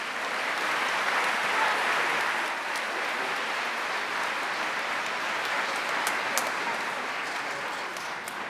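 Audience applause at a county chorus concert, sustained dense clapping from a large crowd filling the hall at a steady loud level, with a few sharper individual claps standing out.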